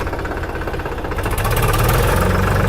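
A tractor shifted into third gear runs with a loud, close, knocking diesel rumble that grows heavier and more throbbing midway through; no voices.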